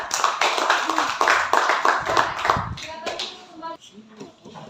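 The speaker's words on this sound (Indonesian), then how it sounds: "kita beri aplaus dulu buat kelompok 3" Classroom applause for a student group after their chemistry presentation: dense, loud clapping for about three seconds, then thinning out as voices come in.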